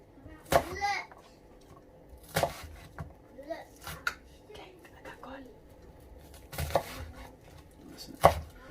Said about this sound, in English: And chop those into large chunks.